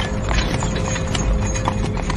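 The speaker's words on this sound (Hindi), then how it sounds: "बग्घी अचानक थम गई। घोड़े दहशत में हिनहिनाते हुए अपने पिछले पैरों पर खड़े हो गए।" Horses pulling a carriage clop along in a steady hoof rhythm, with a faint whinny surfacing in the busy, close mix of hooves and clatter.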